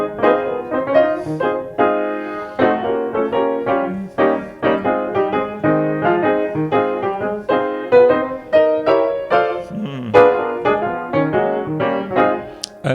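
Solo jazz piano in a locked-hands style, with the melody doubled in block chords across both hands, played as a steady stream of bright chordal phrases, close and clear with no talking.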